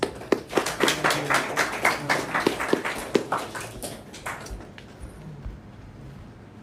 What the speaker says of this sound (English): please round of applause for Shushma